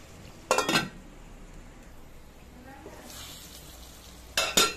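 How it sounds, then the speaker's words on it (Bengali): Spice paste for loitta shutki bhuna fries in a pan with a low, steady sizzle, broken by two short bursts of clattering metal from a spoon or lid near the start and end. "মশলাটা একটু কষুক।"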